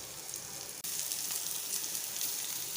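Onion frying in a little oil in a pan for prawn masala, a steady bright hiss of sizzling with a brief dip partway through, close and without speech.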